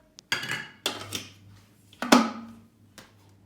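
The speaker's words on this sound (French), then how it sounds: "Insérer le couvercle sans le gobelet doseur." A plastic lid is fitted onto a cooking robot's bowl, giving a few sharp clacks and knocks, close and distinct, with brief rattles in between and no talking.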